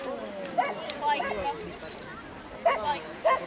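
A medium-sized poodle gives a few short, scattered barks and yips at a junior agility championship, heard at a distance beneath a commentator's steady talk in a noisy outdoor arena.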